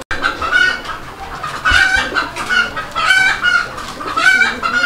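Chickens clucking at a pigeon farm, repeated close, loud clucks and squawks in an irregular rhythm, with no talk.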